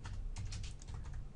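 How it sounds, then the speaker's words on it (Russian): Keys on a computer keyboard are pressed slowly and softly in an uneven patter of light clicks, heard alone and up close at low volume. "I'm typing it very slowly."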